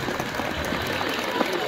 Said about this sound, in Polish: Wielkie, wielkie brawa dla wszystkich tańczących Polonezę.